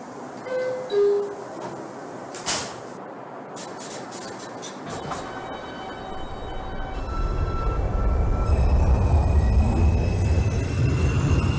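A simulated Brooklyn-bound 2 subway train in the OpenBVE train simulator: a few sharp clicks and faint tones at first, then a low rolling rumble that builds and holds steady as the train gets moving.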